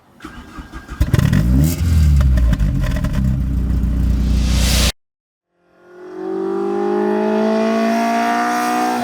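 An engine-swapped Mk2 Golf GTI with individual throttle bodies cranks, fires up and revs hard with a sharp intake bark, cuts off abruptly, then idles back up with a rising drone.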